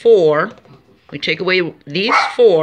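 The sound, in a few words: dog barking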